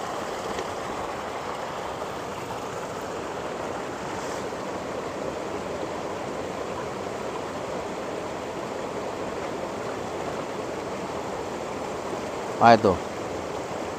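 Fast-flowing water rushes through a fish pond of about 3 by 12 meters and 2.5 meters deep, a constant broad close roar, with a short spoken remark and a brief knock near the end.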